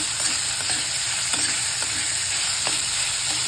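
Crushed garlic being stirred into baingan bharta in a hot pan, a steady sizzle with scraping spoon strokes throughout, close and continuous with no voices.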